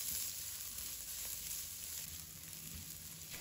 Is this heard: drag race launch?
no